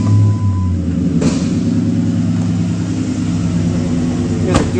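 Lifted 2006 Ford F-150 XLT 4WD pickup with dual exhaust: a sharp click as it starts, then a steady, smooth idle rumble that stays close and even, with a second brief clunk near the end.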